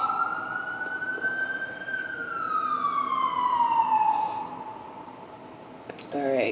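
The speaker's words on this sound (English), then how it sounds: "You hear the sirens?" Emergency vehicle siren wailing outside, a rising and falling tone sweeping slowly, moderately distant and fading slightly, with a brief knock near the end.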